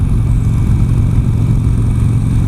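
Engine of a 2017 Harley-Davidson Street Glide Special running steadily, a deep, loud, close rumble that holds even throughout with no talking.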